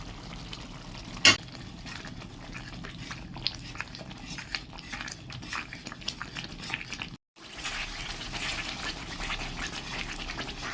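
Chicken with turmeric, coriander, cumin and Kashmiri chili powder fries in a pan, heard as a soft, steady sizzle with repeated scraping strokes of stirring and one sharp knock.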